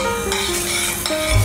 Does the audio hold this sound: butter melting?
yes